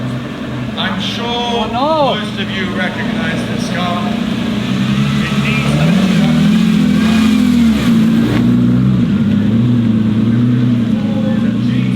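A 1976 Porsche 936 race car engine revs at a parade of classic cars, a mid-pitched motor rising and falling under a loud announcer's voice.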